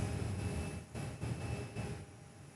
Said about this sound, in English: another Virgin aircraft is on the roll this morning